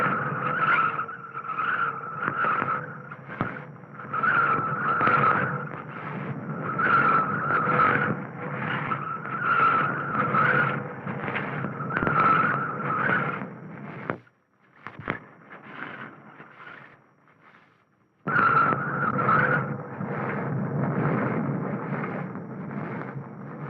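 A car drives down San Francisco's crooked street, eight hairpin turns in a single block, in 1955, with engine drone and squealing tires. The sound runs steadily, drops away briefly near the middle, then resumes.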